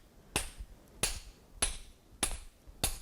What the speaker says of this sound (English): if we pound the handle from below,